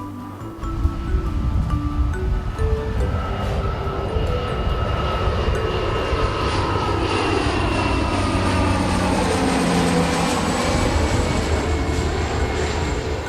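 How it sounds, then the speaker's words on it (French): A propeller airplane drones overhead outdoors, its loud engine hum rising and then sliding lower in pitch as it passes, with leaves rustling faintly beneath. "regardez, il y a un avion qui passe"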